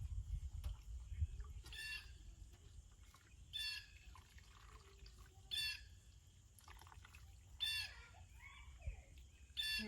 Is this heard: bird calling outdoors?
yes